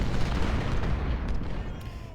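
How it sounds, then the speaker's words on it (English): Cannon fire in Ultimate General: Civil War at the First Battle of Bull Run, a low, continuous rumble of distant artillery with a few faint bursts rising from the roar. "They're just taking superficial damage there with some artillery hits"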